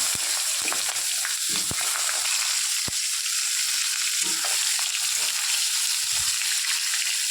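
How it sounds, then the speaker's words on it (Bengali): Potato and eggplant slices fry in hot oil with a steady, close broadband sizzle, broken by occasional sharp clicks and light stirring scrapes; no one speaks. "ওটাকে ভালো করে ভেজে নিচ্ছি লাল লাল করে"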